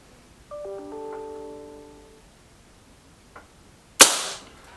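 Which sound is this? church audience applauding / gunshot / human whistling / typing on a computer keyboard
gunshot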